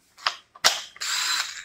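A power drill for mixing epoxy resin being handled, giving a couple of sharp clicks and clunks followed by a brief whirring burst of the motor, close and fairly faint.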